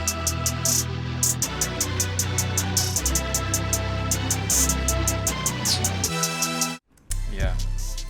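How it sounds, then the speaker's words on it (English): An automated phaser sweeps over the bridge of a rage-style trap beat. Heavy bass and rhythmic hi-hats play under the sweeping effect, and the beat cuts out briefly near the end before the bass returns. "I have used this phaser."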